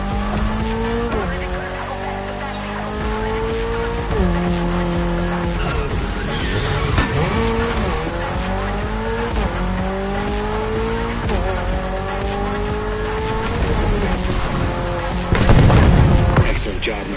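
Toyota GR86, lightweight with a naturally aspirated engine, racing in Motorfest: a revving engine climbing through gears with tire squeal, skids and a loud burst near the end, a voice talking over parts of it.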